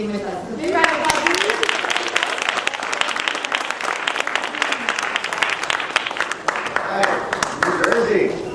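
Sustained audience applause at a congressional reception in Washington, D.C.: a roomful of people clap in a dense, steady burst that swells and then tapers, with a few voices mixed in near the end.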